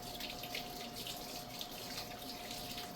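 A faucet runs steadily into a sink, a continuous soft splashing stream with no voices.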